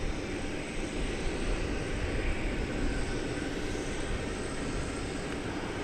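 An airliner arrives at DFW Airport after dark, its engines giving a steady, loud roar that holds without a break throughout, with no voices.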